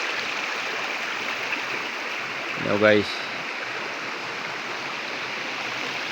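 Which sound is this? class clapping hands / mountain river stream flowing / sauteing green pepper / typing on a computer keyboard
mountain river stream flowing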